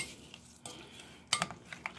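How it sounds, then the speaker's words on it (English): A spoon clinks and scrapes against a bowl while black bean burger mix is stirred with water, a few soft scraping strokes followed by a cluster of sharper metallic taps near the end. "And we're just going to stir this up really good."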